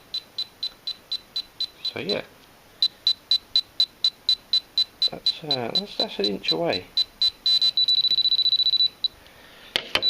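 A GP pinpointer metal detector beeps near a silver sixpence with rapid, evenly spaced chirps that quicken into a near-continuous tone, close and clear, while someone talks over it.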